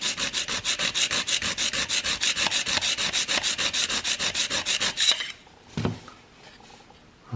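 An Annihilator single-bevel broadhead is stroked on an 800-grit sharpening stone in a steady, rapid series of gritty rasping passes, close and even, then stopping, followed by a few faint handling sounds.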